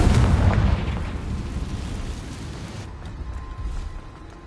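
A Confringo fire spell blast in the Hogwarts Legacy video game: a loud booming explosion at the start that rumbles and decays into a lower, settling roar, with no talk.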